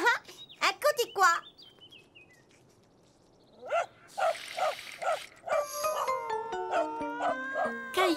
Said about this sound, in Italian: sentendo abbaiare il cane